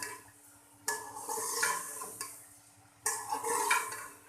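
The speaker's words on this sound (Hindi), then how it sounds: "मसाला हमारा भुना जा रहा है" Spice masala roasts in a pot, heard as two bursts of scraping and stirring with light metallic clinks against the pot, and a quiet faint sizzle between them.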